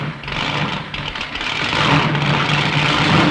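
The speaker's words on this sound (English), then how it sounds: "Then the command, "Gentlemen, start your engines."" A field of NASCAR stock cars at Darlington in 1962 fires up, massed engines swelling into a loud, continuous idling roar that grows steadily stronger.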